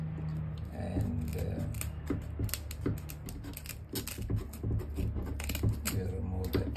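Scissors cutting the tail off a fresh dart fish, heard as a series of crisp, close snips and clicks in irregular rhythm over a steady low background, with a person talking.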